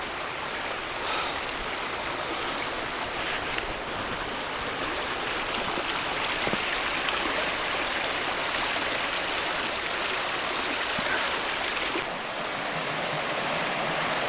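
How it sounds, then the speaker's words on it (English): A creek runs steadily through a cool wooded gully, its broadband rushing water continuous and fairly close, with no voices over it. "I'm actually down by the creek"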